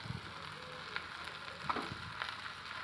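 Pieces of carp fish frying in a pan of hot oil make a faint, steady sizzle with scattered soft pops and crackles close by.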